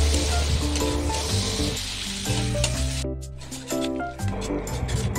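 Chopped onion and tomato frying in hot oil, a loud, continuous sizzle with bursts of stirring and a few clattering touches of a utensil against the pan.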